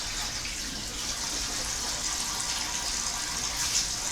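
Tap water runs in a steady, close hiss while someone wets their mouth before brushing teeth; there is no talking.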